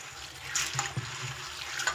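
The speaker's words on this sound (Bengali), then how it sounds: "আমি কিন্তু এখানে মটরটা 3 বার জল পাল্টে ধুয়ে নিয়েছি" Dried peas being rinsed by hand in a bowl of water for ghugni: soft, close splashing and sloshing with a few brighter water clinks, quiet and continuous, with no talking.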